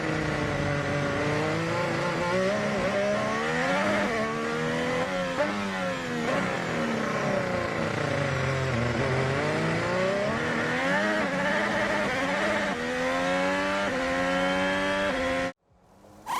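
Formula 1 race cars at the 2022 Singapore Grand Prix street circuit scream past at high revs, engine pitch rising and falling through gear changes over a loud, continuous roar that cuts off abruptly near the end.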